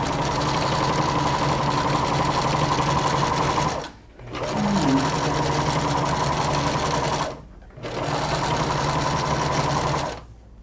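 An electric sewing machine stitches a seam around a kawaii pineapple-shaped cushion with polyester thread, running loud and steady in three long bursts separated by brief pauses.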